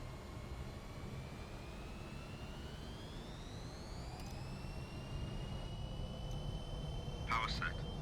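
Jet engines of a Fokker F28 airliner in a flight simulator spool up toward takeoff power, a steady broadband roar with a whine rising in pitch, continuous throughout and slightly louder near the end.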